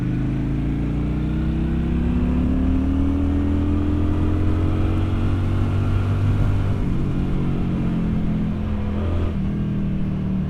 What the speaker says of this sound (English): I love being able to hear the bike even when you're getting up towards 60, 70 miles per hour